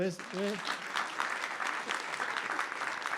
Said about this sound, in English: Still, round of applause.